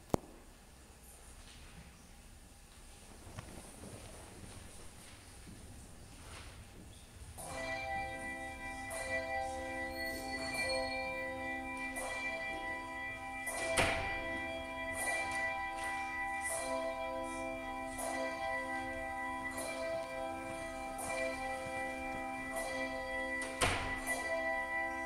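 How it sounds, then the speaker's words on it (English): Church bells ring out in a peal before the opening hymn at a Trinity Sunday service, starting after a quiet lull and sounding steady and sustained, with repeated strikes blending in a fairly distant, resonant wash. "we'll sing that after the pealing of the bells"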